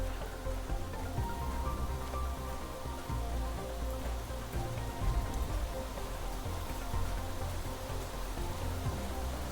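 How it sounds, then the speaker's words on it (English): Rain falls steadily in the survival game Planet Crafter, a dense, even hiss of drops landing on surfaces that stays loud and close all the way through, with no talk over it. "Oh, rain!"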